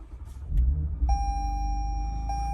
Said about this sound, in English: So we'll go in here and get this started up. This does come with the TRD catback dual exhaust